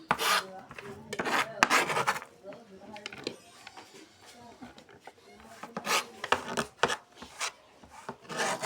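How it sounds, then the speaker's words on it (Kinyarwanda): A knife cuts food on a board in quick bursts of scraping, rasping strokes, loud and close, with pauses and a second flurry of cuts later on; someone talks in between. "Ibiryo byacu tuje kubikata."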